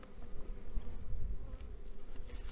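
Steady low buzzing from many honey bees at an open hive, a dense droning hum that swells slightly and continues throughout, with no voices.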